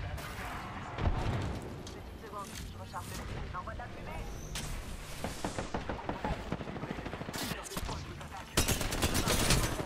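Sustained Apex Legends gunfire crackles in rapid bursts throughout, with sharp louder shots near the end, while voices talk over the fighting.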